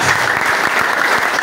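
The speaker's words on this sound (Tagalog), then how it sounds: "pumalakpak ka ng malakas." A live seminar audience claps loudly and continuously, a dense, steady wash of applause that fills the whole moment with no pause.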